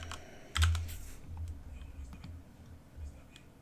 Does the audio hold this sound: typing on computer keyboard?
yes